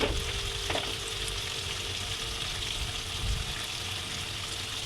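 Onion fries in oil with ginger-garlic paste and salt for a mixed vegetable bhaji, a constant close sizzle with a brief utensil knock near the start and light stirring throughout.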